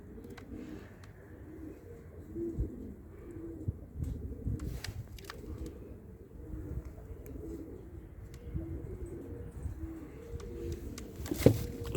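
Young pigeons coo softly in a low, murmuring chorus close by, with scattered faint clicks and a brief sharp noise near the end.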